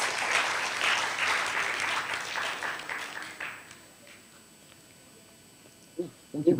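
A conference audience at a renewable energy and sustainable community event applauds, a dense patter of many hands that thins out and fades within a few seconds, followed by faint room noise and a couple of closer knocks.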